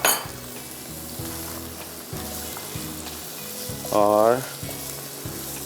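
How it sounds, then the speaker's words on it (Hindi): Marinated chicken fries in a pot with ginger and garlic, a close, steady sizzle broken by repeated scrapes and clinks of a stirring spoon against the pot, with a brief spoken word near the start. "उसके बाद इसमें अपनी मैरिनेट की हुई हम चिकन अपनी इसमें ऐड कर लेंगे।"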